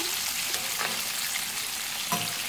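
Chicken drumsticks fry in hot oil over a medium flame, a steady bright sizzle with a few brief stirring or turning scrapes, close and loud with no talking.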